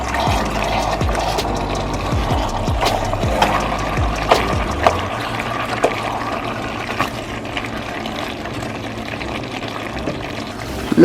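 Half a cup of hot water is poured steadily into a pot of cooking coconut curry chicken, a close, continuous splashing stream running for several seconds.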